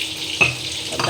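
Turmeric and spices frying in a hot pan, a steady soft sizzle with a brief sharper crackle as the powder hits the oil, then settling back into a constant hiss.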